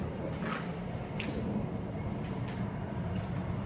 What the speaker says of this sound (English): train coming into Newport